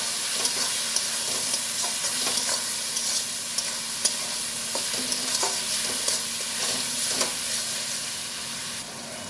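Spices with turmeric and red chili powder fried with a little water in a pan, stirred in steady repeated scrapes over a constant sizzling hiss, close and clear, no speech.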